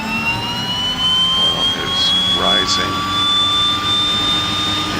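Twin Otter turboprop engine spooling up during a left-engine start in Microsoft Flight Simulator 2020, a steady rising whine with rumble throughout, heard under cockpit callouts.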